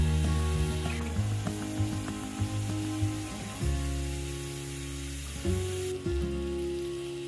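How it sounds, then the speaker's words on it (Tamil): Chicken pieces coated in masala sizzle steadily in a hot pan, a continuous loud fry with occasional stirring scrapes and clinks, no talking. "எல்லா மசாலாவும் நல்லா அந்த சிக்கனில் நல்லா இன்ஃப்யூஸ் ஆகிற வரைக்கும் நல்லா சாட்டே பண்ணிவிட்டு"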